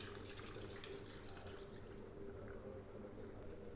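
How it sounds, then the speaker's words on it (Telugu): Water pours into a pan of country chicken curry as it cooks, a soft, steady splashing and trickle heard close and low over a faint kitchen hum. "ఇప్పుడు మనం కొంచెం వాటర్ యాడ్ చేసుకుందాం"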